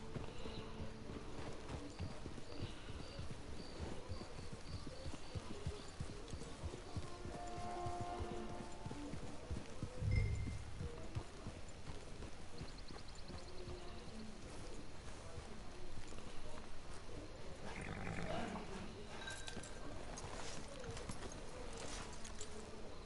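Horse hooves clip-clop steadily at a walking pace throughout in the video game Red Dead Redemption 2, fairly close, with faint ambient outdoor noise and occasional quiet voices.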